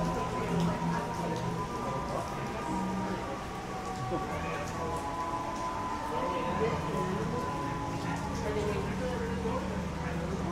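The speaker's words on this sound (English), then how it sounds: "It's heavy rain coming down out there." Heavy rain pours steadily at Disney's Hollywood Studios, a dense continuous hiss of drops on surfaces that lasts throughout, with people talking over it.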